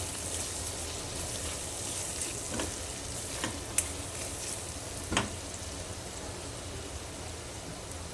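Potatoes sauté in a pan with a soft, steady sizzle, quiet and even, broken by a few sharp clicks and scrapes of a spoon against the metal. No one talks.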